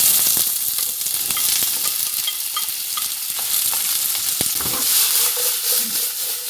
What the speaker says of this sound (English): And then we'll go back in with a little more oil. And then we'll put in this red pepper and those onions.